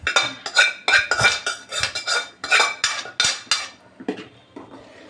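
A spoon stirs semolina into boiling water in a metal pot, making rapid, rhythmic metallic scrapes and clinks, close and alone.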